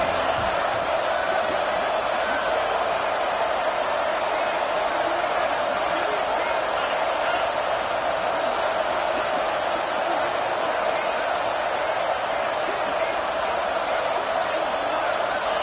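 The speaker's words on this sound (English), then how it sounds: "the crowd coming to life here, trying to help this defense down in the red zone" Stadium crowd at a Georgia Tech versus UCF college football game rising in a steady, dense roar while the defense holds in the red zone, continuous and moderately loud throughout with no distinct breaks.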